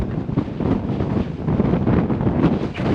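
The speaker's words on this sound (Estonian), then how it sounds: "Ja see tuul lükkab meid kohe ümber." Strong wind buffeting the microphone on an exposed, car-free island viewpoint during a road trip in southern Sweden, a continuous loud rumbling roar with gusty swells and no voices.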